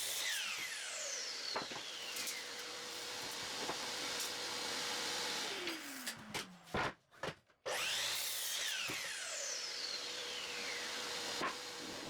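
A power saw cuts through a wooden 2x4 brace for a bench, a loud, continuous whine and rasp with pitch sweeps as the blade spins up and down, briefly dropping out midway before resuming.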